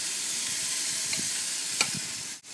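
A hot pan of pepper steak sizzles with a steady, close hiss, broken by a couple of light clinks of a utensil and a brief dip in the sound near the end.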